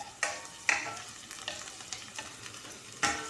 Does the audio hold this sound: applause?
no